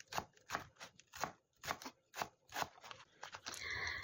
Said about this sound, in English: Green onions, I'm going to cut in 2 different ways. First, chopped like this for the sauce.